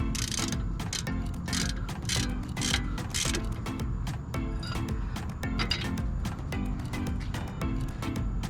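Steady, rapid ratchet clicks repeat close up as a front brake caliper bolt is tightened on a 2006 Nissan Pathfinder, a busy mechanical clatter with no talking.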